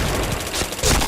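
Rapid gunfire bursts in the shooting game Point Blank, dense and loud throughout, with a sharper, brighter volley near the end and no talk.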